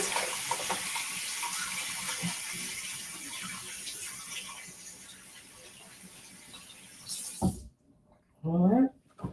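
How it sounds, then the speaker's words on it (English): A tap runs steadily for several seconds as hands are rinsed, a continuous hiss of water that cuts off abruptly near the end, followed by a voice speaking. "Let me wash my hands."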